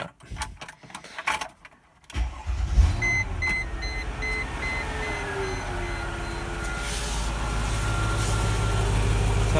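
Mercedes ML55 AMG with its secondary catalytic converters deleted: the engine cranks and fires, then settles into a deep, steady idle rumble, with faint dash chimes beeping early on, heard close by.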